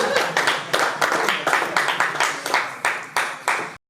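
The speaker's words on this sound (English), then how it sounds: "A round of applause as she comes up" A small audience claps at a conference as a vice president comes up, about a dozen separate sharp claps in an uneven rhythm, near and fairly loud, with no talk, stopping abruptly.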